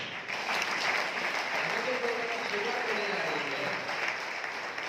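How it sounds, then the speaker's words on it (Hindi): Sustained audience applause in a program hall in Chhatrapati Sambhaji Nagar, a dense even wash of clapping lasting nearly five seconds at moderate level, with crowd murmur underneath. "जोरदार तालियों से उनका स्वागत करेंगे"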